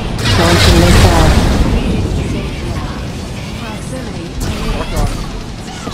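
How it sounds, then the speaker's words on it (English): Missile launch and explosion in a vehicular combat video game: a loud booming blast opens, then a long rumbling crash decays, with smaller bursts near the end and a voice speaking over it. "Launching missile."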